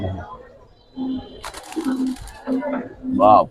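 Giribaz pigeons at a market in Old Dhaka, soft low cooing phrases repeating close by while someone talks over them.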